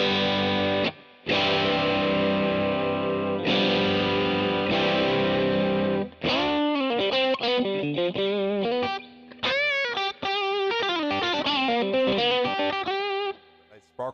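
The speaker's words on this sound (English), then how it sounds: "Distortion." A Fender Custom Shop 1957 Stratocaster Relic through heavy distortion playing sustained chords, then brighter picked notes with a shimmering modulation effect, loud and continuous with short breaks.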